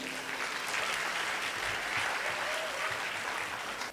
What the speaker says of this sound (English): Can we have a round of applause for all the distinguished speakers here on stage?